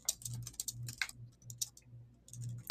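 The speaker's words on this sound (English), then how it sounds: "just typing on YouTube." Quick, irregular keyboard clicks in short bursts over a soft, pulsing low hum, the typing fairly faint and close.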